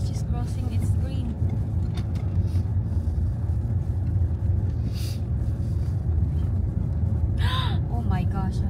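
Steady road traffic rumbles by, with cars passing close in a continuous low roar and a brief higher whoosh near the end, while people talk excitedly over it.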